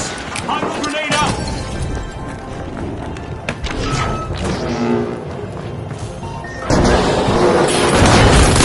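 A hot grenade goes off in The Finals amid dense, crashing gameplay noise, with a heavy surge of blast and debris near the end while a commentator talks over the action.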